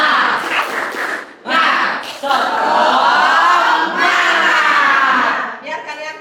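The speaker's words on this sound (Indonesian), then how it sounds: "Sebelum itu kita tepuk semangat dulu biar kita selalu semangat anak-anak." A class of children performs a rhythmic clapping chant to keep their spirits up, with loud voices shouting together over bursts of claps, crowded and close.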